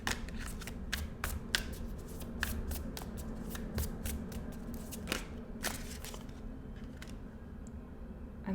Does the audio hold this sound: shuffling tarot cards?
yes